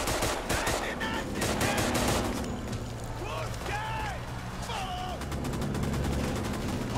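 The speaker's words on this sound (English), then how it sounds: "Now all we need to do is shoot more Nazis." Dense rapid gunfire and machine-gun bursts from the World War II shooter game Raid: World War II, sustained throughout, with faint game voices calling out in the mix.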